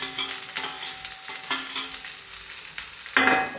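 Fried rice is sautéed in a pan with Dalda and oil, close hissing sizzle broken by repeated metal stirring scrapes and clanks, with a brief tonal ring near the end and no talking.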